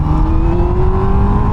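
A 2007 Honda Hornet 600 four-cylinder motorcycle pulls hard under acceleration, its loud, steady engine tone climbing in pitch over a brief, continuous burst heard up close.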